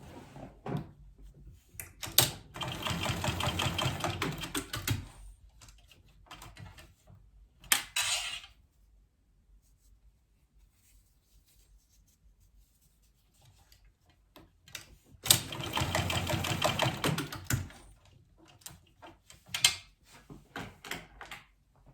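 A sewing machine bastes bag connectors and rectangle rings together on a crossbody bag. Two bursts of rapid rhythmic stitching are separated by a long quiet stretch with occasional light handling clicks.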